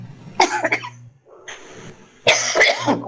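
A woman with a flu coughs in two loud, rough bursts, separated by a short pause filled with faint room noise.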